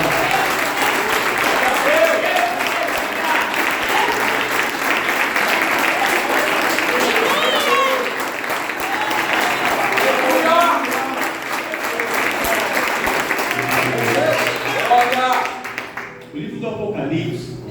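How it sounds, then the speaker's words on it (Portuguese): Family-service church congregation applauding: a loud, sustained roar of many hands clapping with voices mixed in, holding steady for about fifteen seconds before fading abruptly. "dar uma salva de palmas para o Senhor"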